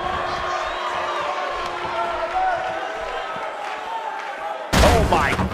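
Arena crowd noise from the WWE 2K18 wrestling video game in Orlando, a steady roar of cheering with a sharp loud burst near the end, likely a slam or big reaction.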